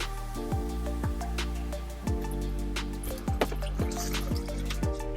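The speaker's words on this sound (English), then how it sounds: "oil coming out of the filler, that means you have filled your differential" Differential oil drips steadily from the filler hole of a 2011 Honda CR-V rear differential, each drop landing in a distinct, close, repeating plop with a fairly regular rhythm and no talking.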